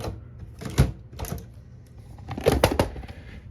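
Royal HHE typewriter margin setting released and slid along the carriage, a few close mechanical clicks and sliding rattles in two short bursts with a pause between.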